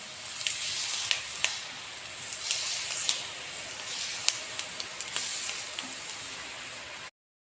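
Jantikalu dough pressed into hot oil fries with a steady hissing sizzle, dotted with brief sharp crackles and pops throughout before cutting off abruptly.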